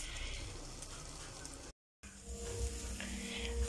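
Chicharrón browns in a pan with a steady, close sizzle and spatter, briefly cut to silence for a moment before the frying noise resumes.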